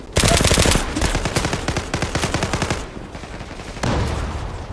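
Rapid automatic gunfire from the online shooter game Zula, a loud dense burst of repeated shots with brief pauses, then a short second burst near the end.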